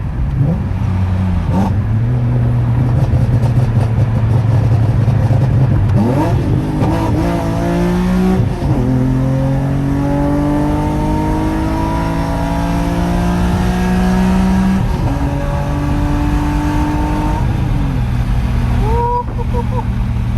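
A BMW E46 M3 accelerates hard at speed, its engine climbing through rising revs in long pulls with brief dips at gear changes, loud and close, with some talk underneath.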